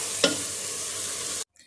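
Fresh coriander and green chillies stirred into a simmering gourd curry, a steady close sizzle with one brief utensil scrape early on, cutting off abruptly before a short faint tail.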